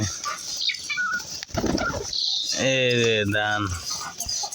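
Pigeons feeding on scattered paddy, grass pea and maize, with chickens nearby, flap their wings in short, close bursts amid chirps and a rising, tonal call.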